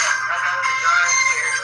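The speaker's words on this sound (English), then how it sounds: "That's her phone ringing." A phone rings in a recorded emergency call, a steady electronic tone pattern continuing throughout at moderate level with a faint low hum underneath and no speech.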